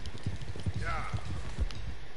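A horse in Red Dead Redemption 2 makes a short whinny under steady hoof clip-clops and rain, while a person talks over the game sound.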